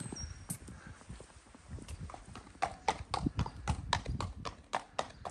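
A horse walking along a Cotswolds village high street, with hooves clip-clopping in a steady, even rhythm that grows louder as it draws near, alone without talk.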